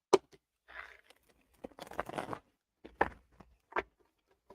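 Tarot cards being shuffled up close in a quiet room, a few short bursts of riffling and soft flicks of the deck separated by brief pauses.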